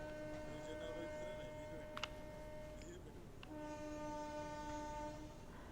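A train makes its first run over restored tracks after a crash in Balasore district, Odisha, with a rumbling rail bed and long tonal horn blasts heard at a distance. A brief sharp clank comes partway through.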